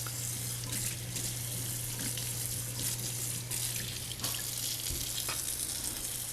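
Kitchen tap water runs steadily over a knife to rinse garlic off, a continuous close splashing hiss with a low hum beneath and no talking.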